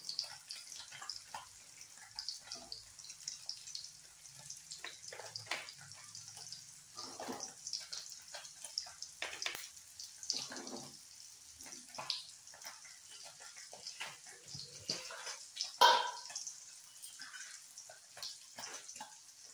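Water is poured into a cooking pot before boiling cauliflower with turmeric and salt, heard as quiet, irregular splashing and trickling with occasional drips and small clinks.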